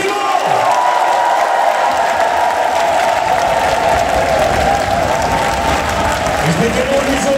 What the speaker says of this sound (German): ein großer Applaus an den Chorleiter